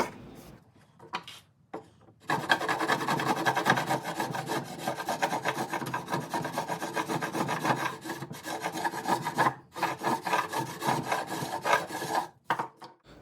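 Hand filing and rasping along the jagged edges of a wooden template clamped in a vise, cut from OSB, with steady rhythmic back-and-forth strokes close up and brief pauses between passes, no talking.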